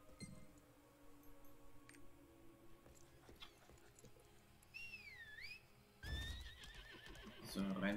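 A horse mount in the Lost Ark video game whinnies twice in rising, wavering calls near the end, over a low game ambience with faint hoof and clinking sounds.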